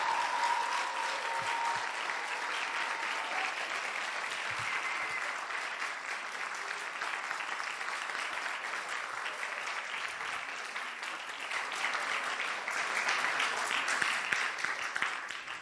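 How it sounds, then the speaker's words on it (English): An audience gives the ten finalists of a literacy challenge grand finale a long, sustained round of applause, dense clapping that carries on steadily for about fifteen seconds and swells slightly near the end. "let's give them a resounding round of applause"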